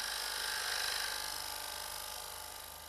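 A steady, bright scraping whine of a square high-speed steel cutter on a wooden bowl spinning on a lathe, continuous and close, fading slightly toward the end.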